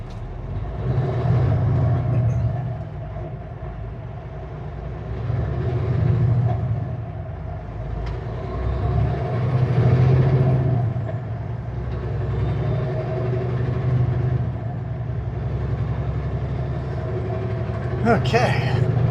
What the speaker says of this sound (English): is there a train going across? There is.